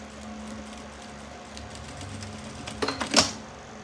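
A sewing machine stitching a seam on a crossbody bag, with a low steady motor hum and faint rapid needle clatter, ending in a few sharper mechanical clicks and a brief louder burst near the end.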